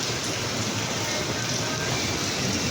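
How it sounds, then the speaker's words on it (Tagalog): Heavy rain pours down in a steady, dense hiss of drops striking surfaces close by, loud and unbroken throughout with no voices. "Lakas ng ulan."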